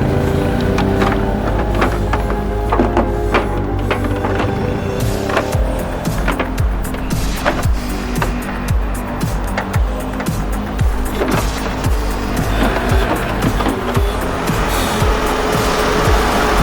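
A tractor climbing an off-road hillside, its engine running loud and steady under heavy load with rattling and clanking over the whole stretch, recorded close up with no talking.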